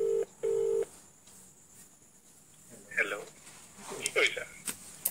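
Mobile phone keypad tones as a call is dialed: two long steady beeps at the start, then quiet, followed by fainter short tones amid close talking.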